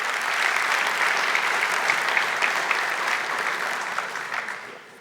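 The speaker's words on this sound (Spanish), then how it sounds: "dale un fuerte aplauso al Señor" A church congregation breaks into loud, sustained applause, a thick continuous patter of many hands close by that carries evenly for about four seconds before tapering off.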